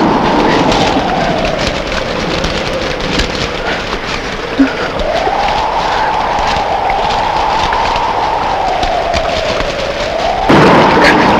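Steady rain falls in a Telugu film scene, making a continuous, dense hiss with a soft tonal drone wavering beneath it. No voices are heard.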